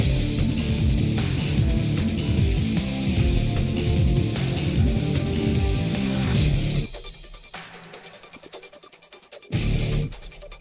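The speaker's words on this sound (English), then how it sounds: "Next up we have Event Shadow's Infiltration." Dense, loud electronic rock from the Sonic the Hedgehog 2006 video game track for Shadow's Infiltration event drives steadily, then drops to a sparse, thinner passage before a short burst returns.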